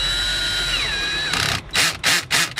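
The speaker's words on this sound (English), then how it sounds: "So my drill has a clutch" A cordless drill whines as it drives a screw into light plastic, then its clutch slips on the lightest setting, giving four loud, close ratcheting bursts in quick succession.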